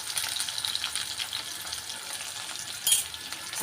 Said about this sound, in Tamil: பாருங்க, வெங்காயம் பூண்டு நல்லா வதங்கிடுச்சுங்க.